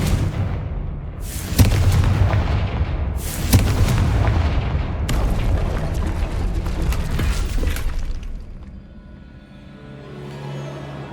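Hogwarts Legacy Confringo fire spell blasts go off in heavy booming bursts, two sharp impacts followed by a rumbling crash that fades into a quieter hum.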